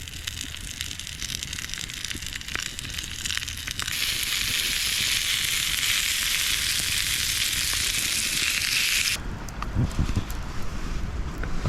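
Bratwurst with sauerkraut and onion sizzles in a pan over a campfire at a winter tarp camp. The broadband frying hiss grows louder after a few seconds, then drops off sharply near the end, with some wind and crackle underneath.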